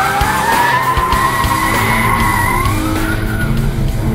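A 2011 Ford Mustang GT with a 412-horsepower engine does a tire-smoking burnout, tires squealing loudly and continuously over a roaring engine, close and without talk.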